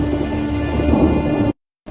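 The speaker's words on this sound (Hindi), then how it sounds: "काकाडू के तूफानों की गिनती दुनिया के सबसे बड़े तूफानों में होती है।" A Kakadu thunderstorm: heavy rain hisses steadily while deep thunder rumbles underneath, loud and close, before the sound cuts abruptly to silence.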